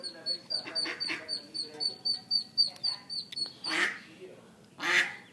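Ducks quack nearby in a quick run of repeated, rhythmic calls, followed by two louder, longer quacks toward the end; no one speaks.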